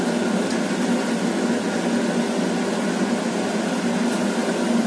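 Nigella seeds sizzle in hot mustard oil in a frying pan, a steady, dense, close hiss that holds evenly from start to finish with no voices.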